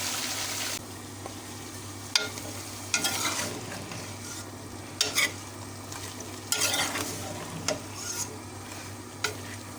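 Cut turnips going into mutton cooking in a kadhai, a continuous low sizzle punctuated by repeated sharp clanks and scrapes of a spoon stirring against the metal pan.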